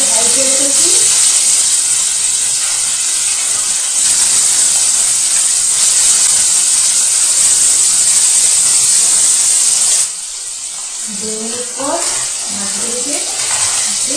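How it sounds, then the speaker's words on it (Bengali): Fish frying in hot mustard oil in a pan on a medium-high flame, a loud, steady hiss and sizzle that runs without pause, briefly quieter near the end, with a voice speaking faintly underneath. "সর্ষে তেল দিয়ে মাছগুলোকে আগে ভেজে নেব।"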